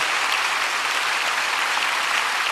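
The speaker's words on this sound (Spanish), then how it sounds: "Por favor, aplaudamos." A church congregation claps together in a dense, even burst of applause lasting a couple of seconds, loud and continuous with no speech over it.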